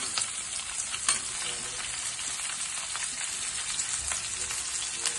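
Garlic cloves and onion pieces frying in hot oil for a fenugreek-leaf curry with lentil dumplings, a steady close crackling sizzle with a few brief louder pops and no voices.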